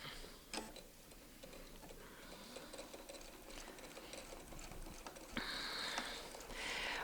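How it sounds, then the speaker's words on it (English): A domestic sewing machine fitted with a ruler foot stitches across a quilt, its rapid mechanical patter running steadily with brief pauses, then speeding up and growing louder toward the end. "So now we're going to sew and go back to A."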